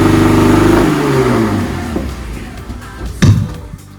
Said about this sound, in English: clearly this bus needs some dyno tuning with that backfire